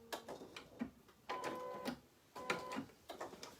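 An embroidery machine stitches out a design in rhythmic bursts of rapid mechanical clatter separated by short pauses, close and moderately loud.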